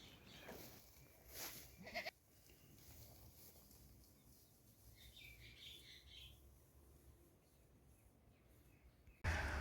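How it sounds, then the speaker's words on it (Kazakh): Alpine goats let out several loud bleats near the start and one more at the very end, with soft bird chirps in the quiet stretch between. "Осы альпийский ешкілер сатылады."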